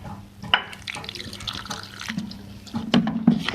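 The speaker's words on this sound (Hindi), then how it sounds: "इसके अंदर मेरे पास पानी है, ये मैं ऐड कर रही हूँ।" Water poured from a vessel into flour for pakora batter, a close, steady liquid splash with small drips and bumps, building louder toward the end.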